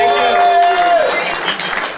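Audience applause at a film festival Q&A, a dense crowd of clapping that swells after a fading steady tone, fairly loud and close.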